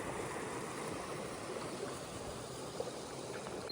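Davies Creek near Mareeba runs past a bush walking track, a steady, even rush of flowing water with no talking.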